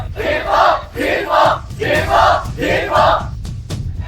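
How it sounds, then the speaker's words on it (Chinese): Audience at a singing competition final roaring and cheering for the winner, loud rhythmic surges of crowd shouting in repeated bursts, close and filling the room. "让我们以最热烈掌声恭喜秦风先生夺冠"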